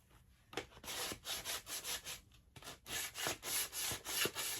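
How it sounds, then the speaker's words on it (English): Light sanding-style scuffing of a $1 printed picture surface with hardly any pressure, a steady back-and-forth rubbing in repeated strokes, close and fairly quiet, with no talking. "So this, hardly any pressure, is enough scuffing."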